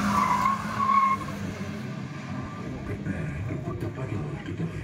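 A racing car at a motorsport event in a stadium in Jammu and Kashmir skids, a squealing tire screech in the first second, followed by a steady rumble of engine and crowd noise.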